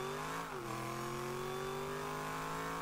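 A steady Rocket League car engine hums continuously, its pitch dipping briefly before settling into an even drone, with no talk.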